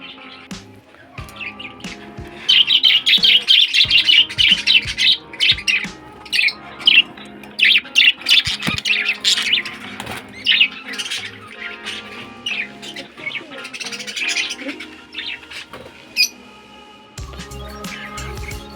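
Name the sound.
budgerigars squawking and flapping wings in a cage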